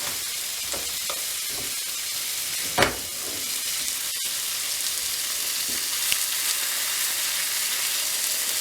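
Pork chops frying in a pan give off a loud, steady, dense sizzle that runs throughout, close up, with a few faint knocks and one sharper clack partway through, no talking.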